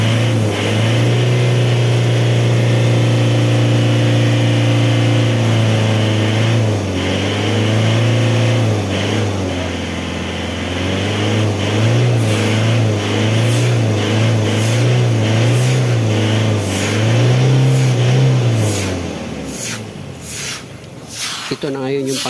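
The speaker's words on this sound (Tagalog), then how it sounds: "saka i-start ko ulit yung makina, then re-revolution ko siya" An Isuzu Crosswind engine with a cleaned muffler pipe runs at a steady, loud, close idle, then revs up before winding down near the end, with a few sharp metallic ticks.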